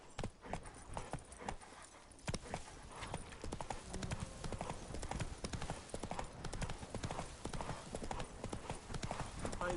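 Hooves of Roach, the horse in the video game Witcher 3, pound in a fast, steady galloping rhythm, dense and continuous throughout, with a voice faintly present.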